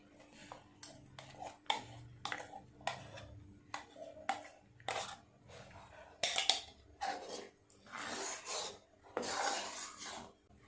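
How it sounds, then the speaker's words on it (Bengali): Spoon scraping and rubbing steadily around a pot of thickening mango phirni, a close, rhythmic series of rasping strokes with uneven pauses between them. "নেড়ে নেড়ে আর একটু গাঢ় করে নিতে হবে"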